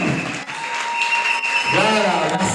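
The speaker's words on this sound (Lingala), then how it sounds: "Est-ce que vous pouvez acclamer pour jeunesse du Chikou?" A wedding audience breaks into applause during a religious marriage ceremony, the clapping dense and sustained across the whole moment with a voice briefly over it.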